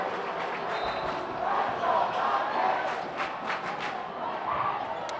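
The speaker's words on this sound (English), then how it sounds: "Listen to the crowd, Marcus." A crowd roars at a high school boys' basketball game in a packed gym, a steady loud wash of cheering and shouting that swells and dips, with sharp shoe squeaks and bursts cutting through.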